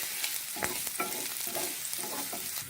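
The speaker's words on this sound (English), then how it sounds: "give this a stir and just let it cook for a few minutes until the raw smell goes off and it becomes fragrant" Food frying in a pan for a simple milky chicken dish: a steady, close sizzle fills the clip while a spoon scrapes and stirs with several soft knocks against the pan, with no one speaking.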